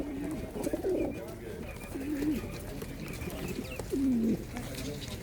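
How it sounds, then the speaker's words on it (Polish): Pigeons coo at a pigeon market in Radom, soft low repeated coos from a few birds against faint background murmur and outdoor noise. "I tu też takie gołąbki są"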